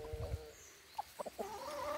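A rooster of the jaguar-colored variety on a small Brazilian farm gives a few soft, short clucks, quiet and close, scattered between pauses.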